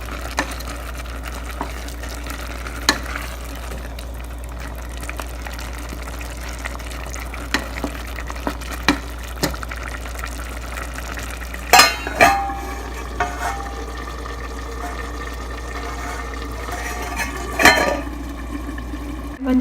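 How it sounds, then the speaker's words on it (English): Mutton and rice are stirred in a pot for mutton pulao, with a low steady hum under quiet bubbling and a few sharp scrapes and clatters of the spoon, two louder bursts of stirring partway through. "I'm going to give everything a good stir and then cook it on low heat."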